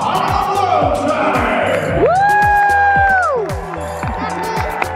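A loud basketball arena crowd roars and cheers throughout, with a rising whistle-like tone sweeping over the din and rhythmic thumping underneath, the noise dense and close.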